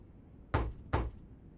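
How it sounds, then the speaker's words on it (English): Two firm knocks on a solid oak door in The Longest Journey video game land about 0.4 seconds apart, each a sharp, close thud in otherwise quiet surroundings. "It's a solid oak door. Alright, well, go a knocking."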